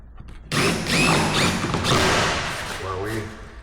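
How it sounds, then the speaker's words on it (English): A power drill drives screws into a roof's gable-to-valley framing, a loud close whir that rises and holds for a few seconds, with a voice talking under it. "We'll just put a couple screws at the top edge and hold it in there."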